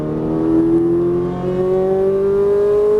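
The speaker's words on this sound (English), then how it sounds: "Squeeze the throttle all the way down." Ferrari 458 Italia engine revving up under full throttle on a track, a loud, steady high-pitched wail whose tone climbs smoothly throughout.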